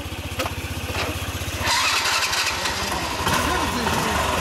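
A Honda Super Cub 90 motorcycle engine starting, rapid cranking pulses that catch into a loud, buzzing single-cylinder idle close by, with people talking over it.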